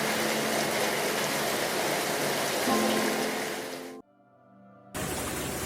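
Heavy rain pours as a dense, steady roar of broadband noise for about four seconds, then cuts to near silence and returns abruptly at the end.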